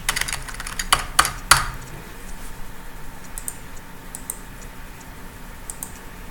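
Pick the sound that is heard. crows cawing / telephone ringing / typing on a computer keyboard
typing on a computer keyboard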